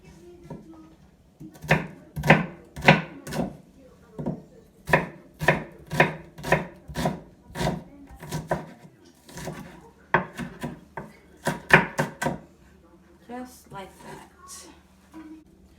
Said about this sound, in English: this one is beef bottom round steak. So I'm gonna slice that.